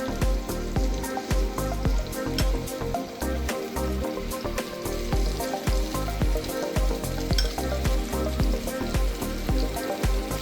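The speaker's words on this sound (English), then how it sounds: "Place the patties in the pan, and once the bottom changes the color, flip them over" Korean beef patties, tteokgalbi, fry in an oiled pan with a constant bright crackling sizzle and scattered popping spatters, loud and close for the whole stretch, no talking.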